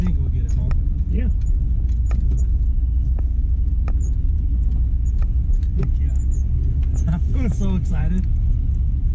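A 1992 OBS Chevy Silverado pickup with a badly worn clutch rumbles steadily inside the cab while driving, a low continuous engine drone beneath a person talking.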